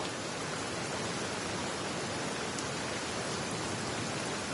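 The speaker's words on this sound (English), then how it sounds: "I love listening to the rain from the courtyard" Steady, dense hiss of rain falling evenly in a courtyard in the video game Genshin Impact, with no pauses or other sounds and no voices.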